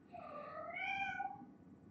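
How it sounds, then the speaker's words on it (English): A cat gives one clear, drawn-out meow, rising then falling over about a second, faint and alone against a quiet indoor background. "we got a kitty meowing again"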